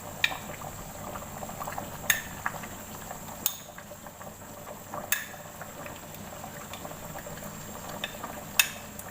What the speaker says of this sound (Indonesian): Saya larutkan dulu terasinya ini. Biar dia tidak menggumpal ya di dalam panci ya.